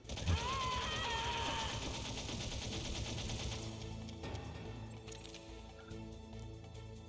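Dense, continuous gunfire in the PS1 game Metal Gear Solid, a loud rapid rattle of shots running throughout over game music and effects.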